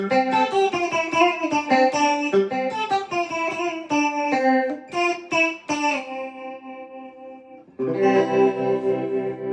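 Fender American Professional Telecaster electric guitar with a shimmering chorus effect, picking a chiming melody with notes ringing out, then settling into sustained strummed chords.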